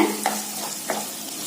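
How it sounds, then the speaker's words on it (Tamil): Chopped tomatoes sauté in hot oil in a pan, giving a soft continuous sizzle with a couple of brief stirring scrapes, close and steady with no talking. "சேர்த்திட்டு நல்லா இந்த ஆயில்ல வதக்கி விடலாங்க."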